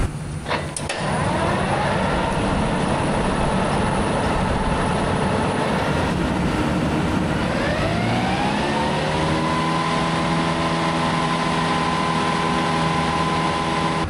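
A heavy tractor engine turns over and settles into a steady, loud idle with a low droning hum that runs on continuously.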